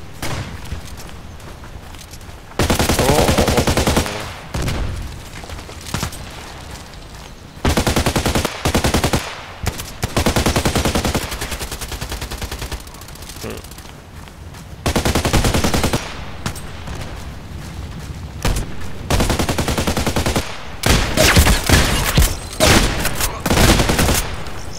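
Gunfire in the video game Contract Wars, loud automatic bursts that stop and restart in several long blocks, some lasting a few seconds, with short quieter gaps between them.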